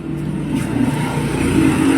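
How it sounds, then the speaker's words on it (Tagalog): Small tricycle motor running close by, a steady low engine drone with a slight rise and fall in pitch, loud and continuous with no voices. "Paanda rin ito yung tricycle."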